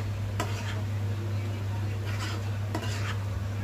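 A spoon scrapes and stirs through mutton curry mixed with salt, chilli and spices in a pot, making a few distinct scraping strokes over a constant low hum, with no voices.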